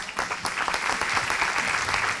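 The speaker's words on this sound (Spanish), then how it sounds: "Le pedimos un gran aplauso para ella." A conference audience claps steadily, a dense, continuous applause from many hands that holds an even loudness throughout, with no one speaking over it.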